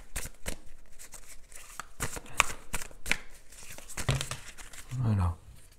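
Tarot cards riffle and slap in a quick shuffle, followed by softer sliding and snapping as individual cards are drawn, with a person talking quietly over the handling.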